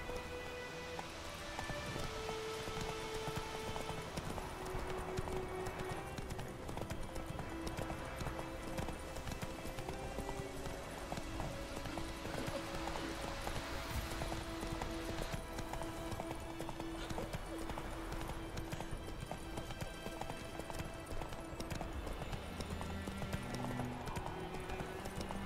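A horse's hooves clip-clop at a steady trot in The Witcher 3, a continuous rhythmic patter mixed into dense game music and ambience and heard throughout.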